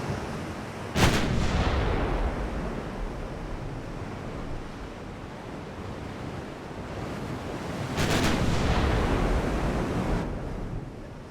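Two heavy booms of 15.1-inch naval guns firing in the warship game Ultimate Admiral: Dreadnoughts, each a sharp loud blast trailing into long rumbling decay over a constant bed of wind and ocean surf.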